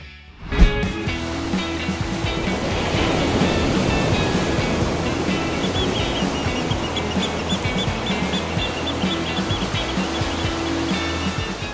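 Ocean surf rolls steadily onto Batu Karas beach in Pangandaran under overcast skies. It is a continuous, full roar of breaking waves with a brief louder crash near the start and no voices.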